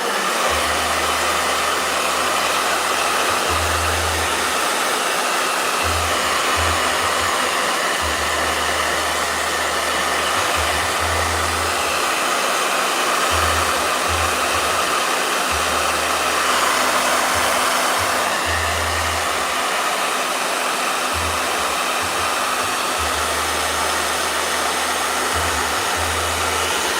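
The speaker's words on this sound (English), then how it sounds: "Blow dryer. Go grab it." A blow dryer runs steadily and loudly for the whole stretch, a constant broadband whoosh with a low motor hum, and low pulsing bursts come and go beneath it.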